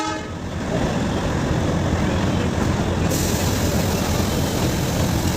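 The Matheran toy train runs on its hill line, a loud continuous rumble and clatter of wheels and carriages that builds in the first second and then holds steady, with a horn-like tone near the start.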